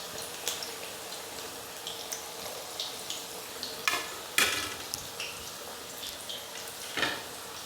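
Veg Manchurian balls deep-frying in hot oil in a kadai, a steady close sizzle with scattered sharp crackles and spatters, plus a few clinks and stirring scrapes, with no talking.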